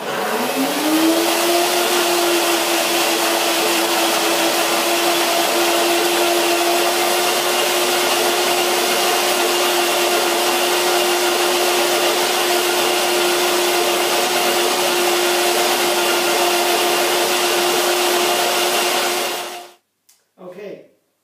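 A blender whirs steadily at high speed, blending cream for a raw vegan pomegranate poppy seed pie, a loud continuous hum that holds evenly for about twenty seconds before cutting off abruptly.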